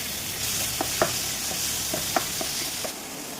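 Chopped tomato is stirred into onions frying in a pan, a steady close sizzle broken by a string of light spoon scrapes and taps at an uneven pace.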